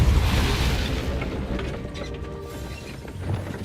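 In Hogwarts Legacy, a Depulso spell goes off with a heavy booming blast and rumbling mechanical rattles, loud at first and then settling into clanking, with no speech.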